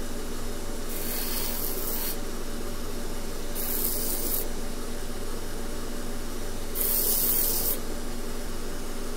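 Three short bursts of hissing, rubbing friction come from sanding a small metal katana fuchi fitting, each about a second long and evenly spaced over a steady background hum, close by and without talk.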